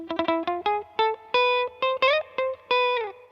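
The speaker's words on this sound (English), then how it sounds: "it's just a really, really nice reverb" Electric guitar notes and short chords plucked in a quick, uneven phrase through an analog spring reverb pedal, each one ringing with a wet, splashy reverb tail.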